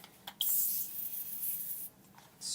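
Water from a spray bottle hits a chalk board in short bursts, one hiss near the start and another toward the end, close and clear.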